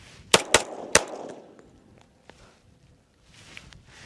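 Three quick, loud shots from a Tisas Raider steel-frame 1911 pistol in close succession, each a sharp crack with a brief ring, followed by quieter handling clicks.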